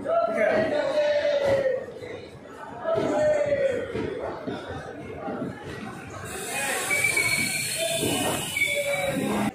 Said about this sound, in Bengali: এটা আমাদের ট্রেন।